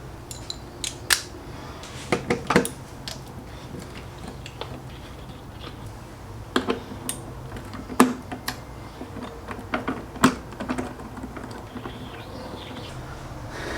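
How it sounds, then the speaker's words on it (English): A 10mm socket wrench works a bolt loose on the 1.3T engine of a Jeep Renegade, sharp close metallic clicks and taps scattered irregularly over a quiet background, with a few louder clustered knocks. "we're going to switch to a 10mm and remove a bolt here"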